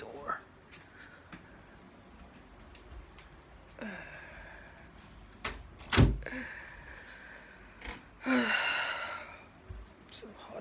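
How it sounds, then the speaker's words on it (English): A door is shut indoors with a few bumps and one firm thud near the middle, mixed with sighs, breathing and speech in a warm room. "let me just close this door"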